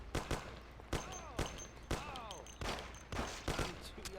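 Gunfire in the video game Mafia, a run of sharp, close shots in irregular bursts about every half second, with faint voices and whistling ricochet tones between them.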